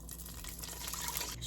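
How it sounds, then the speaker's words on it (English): Water poured into a pot of roasting chana dal for barfi, a steady one-and-a-half-second fill, close and fairly quiet. "adding water"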